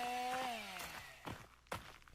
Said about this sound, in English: these spiders sound like a chainsaw failing to start